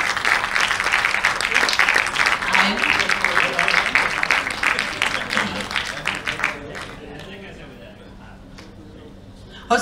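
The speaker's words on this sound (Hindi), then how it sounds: "तालियां बजा लो" Children clap together at a three-day festival, a dense burst of applause that thins and fades after about six seconds, with voices talking beneath it.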